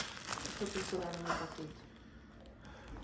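A plastic bag of snacks crinkles softly and intermittently in a quiet room, faint rustling with people talking over it.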